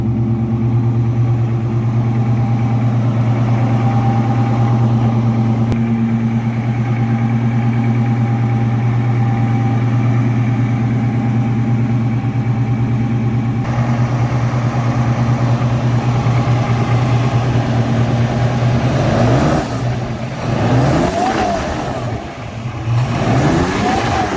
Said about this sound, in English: Engine sounds like it's pretty stock.